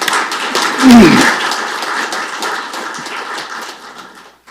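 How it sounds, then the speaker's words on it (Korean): An audience at a Korean legislative forum on child care in religious facilities applauds in a short burst that gradually thins and fades out over about four seconds, with a brief voice heard early on. "준비해 주신 분들을 위해서 박수 한번 특별히 부탁을 드립니다."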